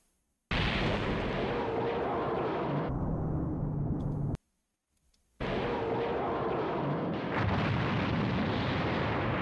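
Big explosion sound effect used for Nappa blowing up in a Dragon Ball Z parody: a loud, long roaring blast, a sudden cutoff to silence, then a second sustained rumbling burst.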